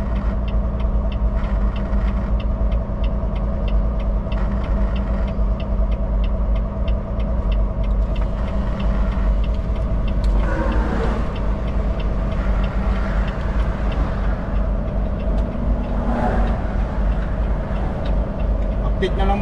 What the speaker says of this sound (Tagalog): Dahan-dahan lang ako nagda-drive, hindi pwedeng mabilis.